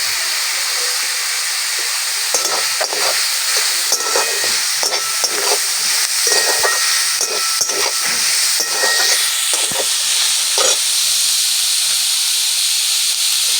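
A bowl of sliced onions sizzles in hot oil, a loud, steady hiss with scattered crackles and pops continuing throughout, with no voices.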